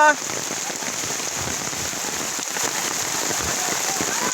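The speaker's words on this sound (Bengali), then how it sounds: "আজকে সেই বৃষ্টি আমরা উপভোগ করতেছি" Steady, dense rain pours down during an outdoor football game, a loud continuous hiss of drops hitting the ground with no break from start to finish.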